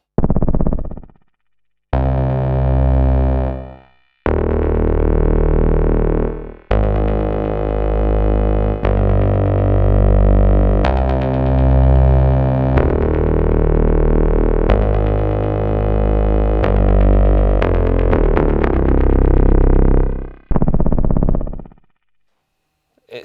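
A synthesizer bass sequencer pumping out thick, distorted sustained bass notes in long repeating phrases, loud and massive, with brief gaps between some patterns.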